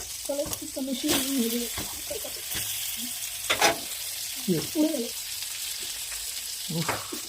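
Fish frying in hot oil for a sea-fish dinner, a steady sizzle running throughout with clattering stirs and scrapes, while people talk nearby over the cooking.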